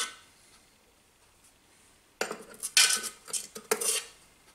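A metal spoon scrapes and clinks inside a Thermomix bowl, scooping out freshly ground icing sugar; silence first, then a burst of close scraping and clattering knocks.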